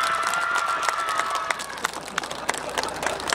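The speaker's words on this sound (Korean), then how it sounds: "뜨거운 박수로서 환영해 주시기 바랍니다" Scattered clapping from a crowd welcoming a guest at the opening ceremony of a scallop and seafood festival in Goseong, with a few sharp individual claps standing out over a steady background and a faint tone running beneath.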